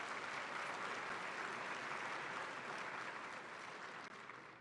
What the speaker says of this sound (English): Let's give Don a big round of applause.